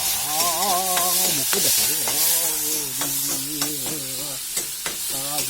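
Ginger-garlic paste frying in a little oil for a fish curry with bhebeli lota, a continuous close sizzle with stirring scrapes, while a voice speaks briefly over it.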